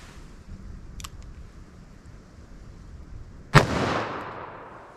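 A single sharp .357 Magnum shot fired into ballistic gel cracks out loud and close, then echoes and decays over a second or so, after a couple of faint clicks and a quiet pause.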